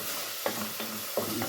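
Mushrooms for palabok cook in a pot, giving a steady soft sizzle with a few brief scraping stirs of a utensil. There is no talking.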